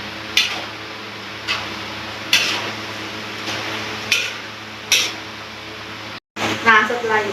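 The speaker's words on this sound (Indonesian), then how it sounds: "Kita aduk rata." A pork dumpling filling being stirred in a pan, with a utensil clicking and scraping against the metal in five separate, fairly close strokes, then a busier clatter near the end.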